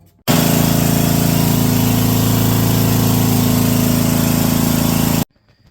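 An abandoned junkyard engine fitted with an aftermarket carburetor runs for about five seconds, a loud, close, steady rough drone that starts abruptly and cuts off just as suddenly, then quiet.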